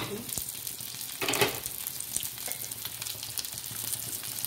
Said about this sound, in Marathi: कारले परतले आपले.